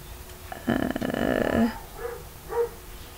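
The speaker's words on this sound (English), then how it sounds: "Oh, there's a dog barking." A dog nearby gives a rough, drawn-out growling bark followed by two shorter, softer yips, heard indoors against a quiet room.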